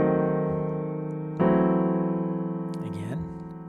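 Piano sounds two diminished locked-hand chord voicings one after the other, the first ringing and decaying, the second struck about halfway through, with a voice briefly speaking near the end.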